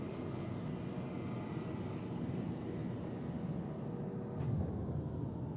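A spaceship in a video game flies under afterburner, giving a steady, loud, broad engine roar with a short whooshing surge near the end; no one talks.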